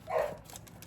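A single short dog bark, fairly close, followed by quiet room tone.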